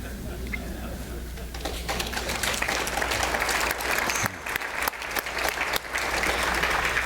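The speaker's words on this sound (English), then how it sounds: "you don't have to clap after every poem, even if you want to." Applause from a conference audience after a poetry reading, continuous clapping that swells slightly in the second half, with some speech faintly mixed in.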